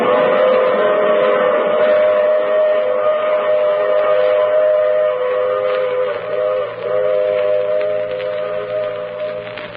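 A radio drama sound effect of a train running steadily and loudly, a continuous rumbling roll with tonal whistle-like hums riding on top, never letting up.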